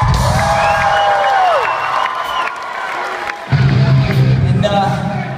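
A packed crowd at a live rock concert at the Wiltern in Los Angeles cheers and whoops loudly, with scattered shouts and clapping over a voice on the PA system.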